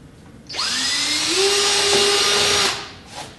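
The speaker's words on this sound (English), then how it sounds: "flip it over, and drill the back sides too." A power drill with a 1/4 inch bit bores holes into a door frame, whirring up to speed, bearing down steadily for about two seconds, then winding down, loud and close.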